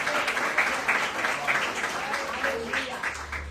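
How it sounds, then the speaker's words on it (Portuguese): A church congregation claps in a rough, uneven rhythm while a preacher keeps speaking over it, the applause moderately loud and steady. "aplauda o Senhor com o seu melhor"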